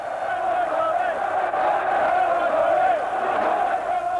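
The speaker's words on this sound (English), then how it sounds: "But the foot soldiers of Frankie Clark's Red and White Army are here to cheer." A big crowd of Sunderland-supporting football fans, Frankie Clark's Red and White Army, roars and shouts in a dense, continuous wall of cheering that stays loud throughout.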